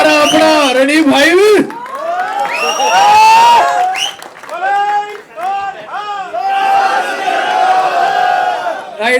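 Loud crowd at a film press conference for the Bollywood film JAAT, shouting, whooping and cheering in bursts through the whole stretch, with voices calling out over the roar and scattered clapping blended in.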